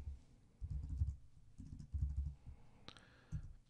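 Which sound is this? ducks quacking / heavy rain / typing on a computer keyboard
typing on a computer keyboard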